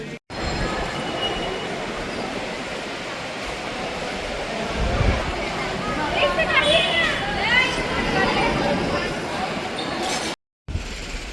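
A train rolls on Konkan Railway track at Ratnagiri railway station, with a loud, steady rumble of wheels and carriages and some squealing metallic tones, continuing almost the whole time until a brief dropout near the end.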